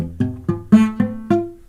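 A beginner's first try at an F barre chord on guitar comes as five quick strums in a row, each one twangy and close and dying away quickly, with a slightly buzzing tone and no voices.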